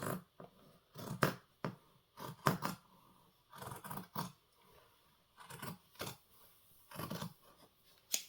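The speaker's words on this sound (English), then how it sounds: "just cutting out a shape" Scissors snip through fabric while cutting out a shape for a Zorro cosplay duster, giving close, crisp, irregular bursts of cuts separated by short pauses.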